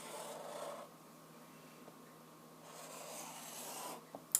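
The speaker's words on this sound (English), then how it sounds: "now I'm going to just hold the tape and trace my circle" Pencil tracing a circle around a roll of tape on paper, giving faint, close scratchy strokes in two sweeping passes separated by a quieter pause, ending with a small tap.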